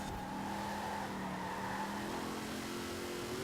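Supercharged 1,350 hp Ford Transit Mk1 engine in Forza Horizon 4, a loud, continuous engine roar with supercharger whine, steady throughout with no talk.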